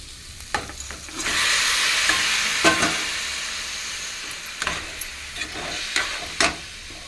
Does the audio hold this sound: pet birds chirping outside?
no